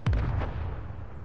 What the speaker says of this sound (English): I just hear the Mando sniper as well.